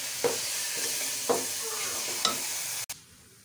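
Carrot halwa is stirred and roasted in a pan, with three spaced scraping strokes of a spoon against the pan over a soft continuous sizzle, close and fairly quiet.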